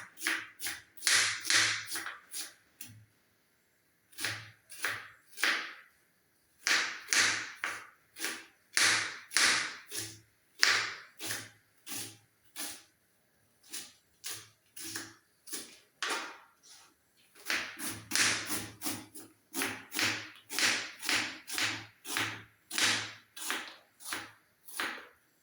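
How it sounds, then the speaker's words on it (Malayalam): Onions are chopped with a knife on a board in quick, regular bursts of sharp taps, pausing briefly between runs, close and clear with no talking. "ഇനി ഉള്ളി കൂടിയാണ് അരിഞ്ഞെടുക്കാം"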